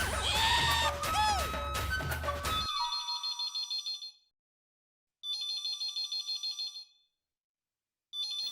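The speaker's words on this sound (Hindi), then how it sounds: "एक फोन बंद हुआ नहीं और दूसरा शुरू हो गया।" A telephone ringtone goes off in a Gokuldham Society home: a bright electronic warbling tone in three long repeating bursts separated by silent gaps, following a short stretch of busy voices and music.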